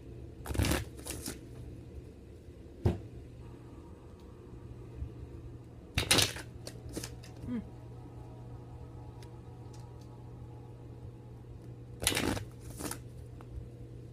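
Gilt-edged oracle cards riffled and shuffled in a quiet room, three brisk bursts of papery flutter several seconds apart with soft card slides and taps between them, no talking.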